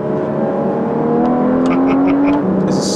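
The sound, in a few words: Porsche Cayman GTS sports car engine while driving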